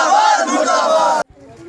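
A crowd of protesters shouts slogans against bus owners in loud, dense overlapping voices for over a second, then cuts off abruptly into near silence.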